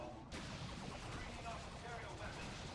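Spore Mines detonating in the strategy game Dawn of War 2: Retribution, heard as a dense, continuous barrage of explosive battle noise that starts abruptly and rumbles on without a break, with no clear individual blasts standing out.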